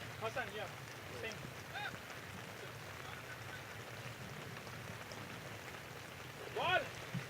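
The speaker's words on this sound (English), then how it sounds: "Well, the rain is falling steadily now." Steady rain falls at a cricket match, making a constant even hiss throughout, with people talking over it.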